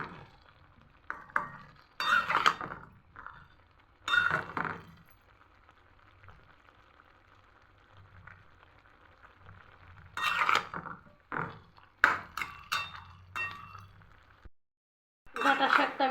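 Amaranth stem greens stirred in a frying pan, intermittent scraping and clinking of a spatula against the pan over a soft sizzle, in separate bursts with quiet gaps.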